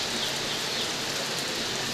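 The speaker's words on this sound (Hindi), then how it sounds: "क्योंकि बारिश बहुत तेज़ आ गई।" Heavy rain pours down steadily in Ayodhya, a dense, even hiss of drops on surfaces that fills the whole moment with no voices.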